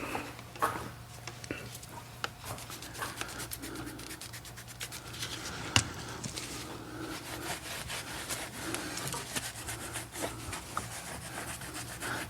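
A towel rubs across the face of a wheel on a Porsche 992 GT3 Touring during surface prep before coating, giving soft, continuous scrubbing and scratching strokes close by, fairly quiet, with one sharper knock midway.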